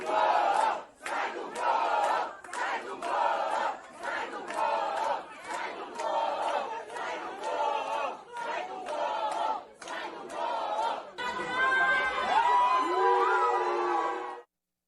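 Passengers aboard a flight boo and chant in rhythmic unison at a judge, loud repeated shouted bursts of a crowd with brief gaps between, ending in more scattered, jumbled yelling.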